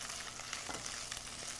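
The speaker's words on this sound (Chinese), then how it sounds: "现在已经看到我们的肥猪肉开始已经有金黄色了，所以我们现在把蒜丢进来，蒜片" Sliced garlic sizzles in a pan of frying pork fat that has turned golden, a dense, steady crackling hiss close by with small pops and no talking.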